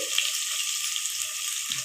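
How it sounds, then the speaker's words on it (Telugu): Ginger garlic paste fries in hot oil on a low flame, sizzling in a loud, steady hiss from start to finish, with a soft stir-like bump near the end. "పచ్చివాసన పోయేంత వరకు స్టవ్ సిమ్లో పెట్టుకొని ఆయిల్లోనే వేపుకోవాలి"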